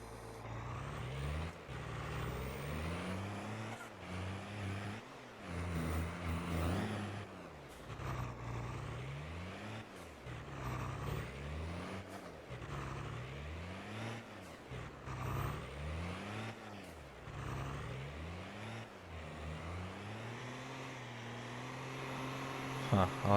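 A truck engine in Farming Simulator 22 drones steadily, revving up and down in repeated cycles with hissing air-brake releases, while a player talks over it intermittently.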